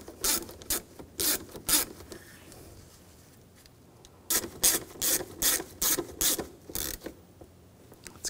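A ratchet tightens a bolt while fitting an upstream oxygen sensor on a 2007-2013 BMW X5 3.0L inline-six, close-up clicking in two quick runs of rhythmic strokes separated by a short pause, with no talk.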